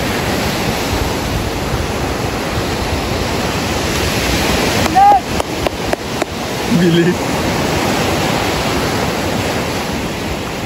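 Ocean waves roll in a constant loud wash of surf, with a brief voice and a few knocks and clicks briefly cutting through midway.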